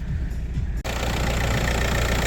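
An Audi A6 C5 engine idles with a close, steady, even rumble, broken by a brief dip near the start and then running on unchanged.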